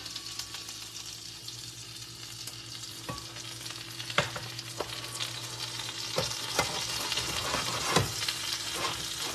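A patty melt sizzles in melted butter in a hot pan, a steady close hiss with scattered crackles and a few sharper spatters, moderately loud and unbroken, with no voices.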